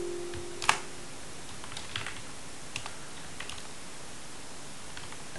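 Typing on a computer keyboard, light scattered key clicks with a couple of sharper taps, close and fairly quiet over a steady background hiss.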